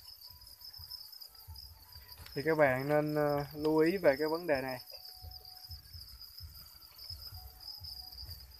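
Farmed crickets chirp as a steady high thin trill running throughout, faint and constant, while someone speaks briefly in the middle.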